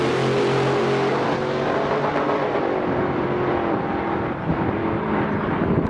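A box Chevy donk race car's engine roars loud and steady at close range, a thick sustained drone that holds for the whole stretch with a slight waver near the end.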